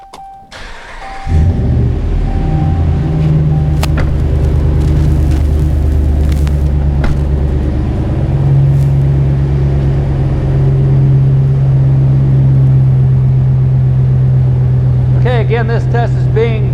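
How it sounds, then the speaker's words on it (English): A truck engine cranks and settles into a steady, loud, low idle for an air-conditioning system test, holding an even rumble throughout with a brief faint whirring near the end. "now we're ready to go ahead and start the truck up, and let's see what kind of readings we get"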